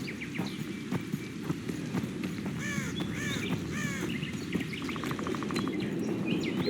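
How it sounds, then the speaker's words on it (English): Woodpecker drumming amid game forest ambience in The Witcher 2: a short rapid burst of knocks stands out among scattered bird chirps and caws, with steady clopping hoof-like taps throughout. "Your woodpeckers going on in the background."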